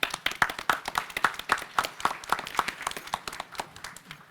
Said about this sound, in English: So I'd like to give you all a round of applause